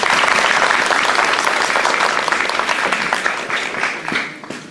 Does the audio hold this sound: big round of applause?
yes